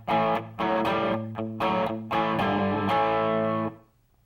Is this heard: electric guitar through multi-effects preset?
yes